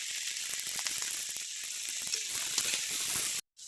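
Steady sizzling and crackling of cauliflower frying in a pan, continuous hiss with small pops, cut off briefly near the end.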